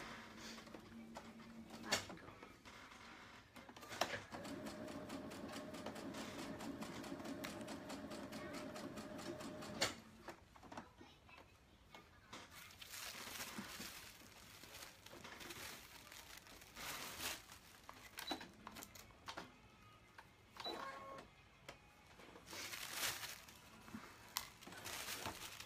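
A sewing machine runs quietly in short stitching runs along pinned dress-costume fabric, with people talking nearby between bursts.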